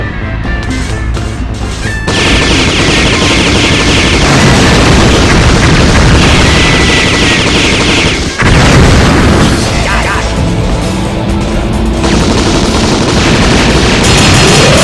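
Rapid gunfire from the double machine gun in the video game Metal Slug 3D, loud and dense, with blasts and explosions mixed in and a brief pause near the middle before the shooting resumes.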